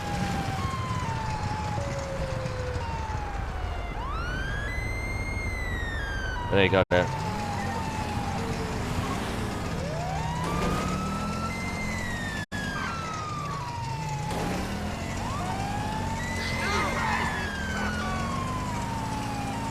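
A GTA V police siren keeps wailing in rising and falling sweeps over game noise, loud and nearly unbroken, while someone briefly talks over it.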